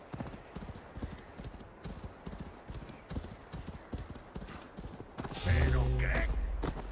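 A horse's hooves clip-clop at a steady walking rhythm in the Assassin's Creed Valhalla video game, light and regular, before a louder burst of game sound near the end.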